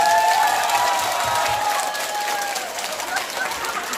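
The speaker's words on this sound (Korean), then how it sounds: "박수!" An audience at a Korean singing class claps and cheers in a dense burst that gradually thins out, with a few voices calling out on top of the applause.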